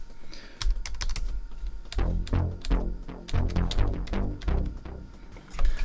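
A computer keyboard played as a note controller in Reason music software clatters with close, irregular clicks and quick runs of keystrokes.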